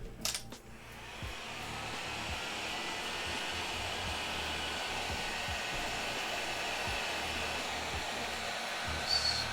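A hair dryer blows steadily and continuously over a leather finish on an axe sheath, a broad even whoosh lasting throughout with a brief knock at the start.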